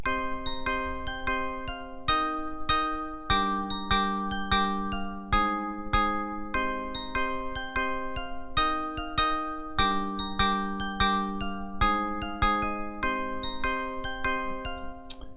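A bright synth melody plays repeating plucked notes in a steady rhythmic pattern, with no voices, moderately quiet.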